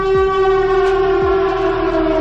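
Siren Head, the horror creature, lets out a loud, sustained siren wail with steady layered tones, dropping in pitch twice, filling the whole stretch alone with no talk.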